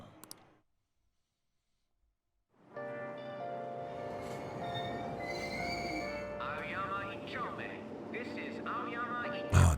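Subway train in the video game Persona 5 arriving after a brief hush, then a loud sustained rumble with metallic wheel squeals and tonal screeching that swells toward the end, no talking.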